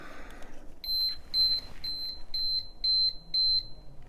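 A Google-brand kitchen timer's alarm rings in repeated pairs of short, high electronic beeps, a clear steady pattern heard close and alone.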